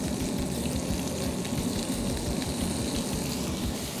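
Skirt steak searing in a very hot pan after lobster for pad thai gives a steady, dense sizzle that stays loud and close throughout, with no talking.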